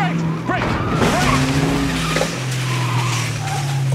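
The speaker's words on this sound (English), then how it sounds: "Whoa, put the brakes! Brakes!" A car braking hard with tires skidding and squealing loudly and close for several seconds, while a voice speaks over it.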